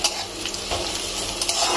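Meat and fat being stirred in a frying pan for a spicy braised meat dish, a steady close sizzle with scraping utensil strokes running throughout, no talking.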